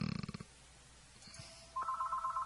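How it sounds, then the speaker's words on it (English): A telephone rings nearby in a room, a rapid trilling bell burst at first, then a short pause before a steady electronic ring tone starts again. "Phone keeps ringing again"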